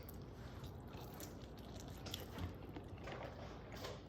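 Someone bites into a bacon-wrapped, BBQ-sauced chicken wing from a pellet grill, giving quiet, close crunching and chewing with a slightly firmer crunch midway, and no talking.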